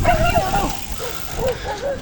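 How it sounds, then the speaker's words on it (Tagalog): A dog yips and whines in a few short, tonal bursts over steady outdoor noise during a New Year group ride, with people's voices nearby. "Oh, aso!"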